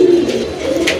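Rajgolla pigeons coo in a low, throaty, rolling call, close and clear, one continuous burst without any voices.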